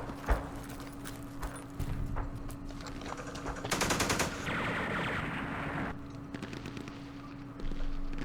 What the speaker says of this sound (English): That's our recoilless rifle firing and missing